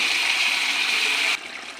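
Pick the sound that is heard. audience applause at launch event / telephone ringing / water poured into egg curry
water poured into egg curry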